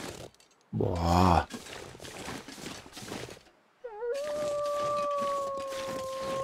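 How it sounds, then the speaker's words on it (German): A wolf howls in The Long Dark, first as a loud, close wavering howl, then, after a brief quiet gap, as a long sustained howl running to the end over a steady background hiss. "Da sind immer mehr Wölfe."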